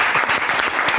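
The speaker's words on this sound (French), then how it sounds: "On applaudit." A brief burst of dense audience applause with many hands clapping, loud and close, in a studio or event setting.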